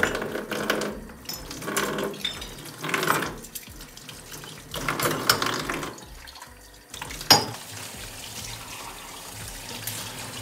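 Running water from a tap splashes in repeated bursts as dishes are rinsed, with occasional clinks of crockery close by.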